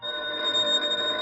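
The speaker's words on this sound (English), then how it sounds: "I got a phone call." A telephone rings in a radio drama, a steady electric trill that sounds close and carries without pause or voices through the short burst.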